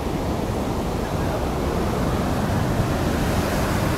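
Ocean surf breaking at Praia Brava beach during a live surfing competition broadcast, a continuous loud roar of crashing waves and wind with no voices over it.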